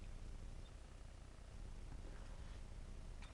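A cat purrs close by in a steady, continuous low rumble that holds for the whole stretch, with only faint light ticks above it and no voices.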